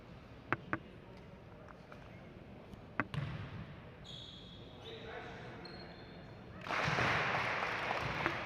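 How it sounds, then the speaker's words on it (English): Spectators at a Glenbrook South vs Lemont high school basketball game in a gym give two sharp, close claps after a made free throw, followed by a thud and a swell of sustained crowd noise. "A little clap after a free throw goes in."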